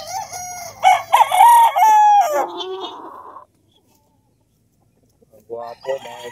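A Sweater line gamefowl rooster crows loudly and close several times, then a pause of near silence before another crowing burst begins.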